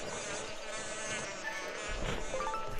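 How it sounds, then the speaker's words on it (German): Bees buzz in Zelda: Skyward Sword HD with a steady, continuous drone that stays fairly loud throughout, mixed with game background sound and no talking. "Das sind verdammt mächtige Bienen."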